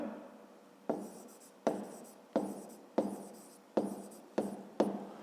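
Pen or pencil writing by hand on paper, seven distinct strokes in a steady rhythm, each a sharp scratchy onset that trails off, close and clear with no voices.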